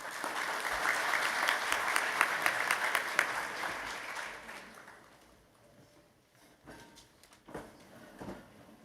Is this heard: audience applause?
yes